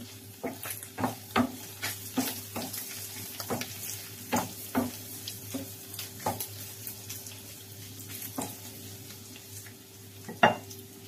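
Leftover chicken seasoned with black pepper and spices is stirred in a frying pan, giving a steady run of scraping strokes over a continuous sizzle, close and fairly loud, with no talking.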